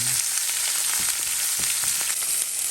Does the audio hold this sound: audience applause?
no